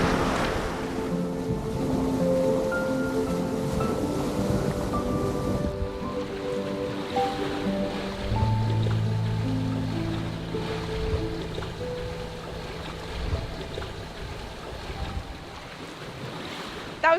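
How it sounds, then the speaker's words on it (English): A sailboat runs home under spinnaker on flat water, with a steady rush of wind and water around it and a sustained tonal, melodic layer drifting over the top; no one speaks. "Sailing home under spinnaker"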